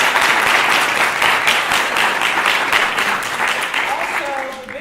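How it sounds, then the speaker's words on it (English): An audience at a university forensics showcase claps steadily in a dense, even round of applause that tapers off slightly toward the end. "So please, a round of applause for them."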